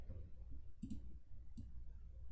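Soft computer keyboard clicks during a game development session in Unreal Engine 5, two brief clusters of taps about a second apart over a low steady room hum.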